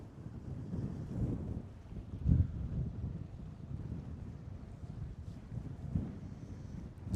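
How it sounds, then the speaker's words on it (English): Steady, rumbling wind at Port Canaveral buffets the microphone for the whole stretch, with a couple of stronger gusts swelling louder, all broadband and low-heavy. "Sounds windy because it is windy."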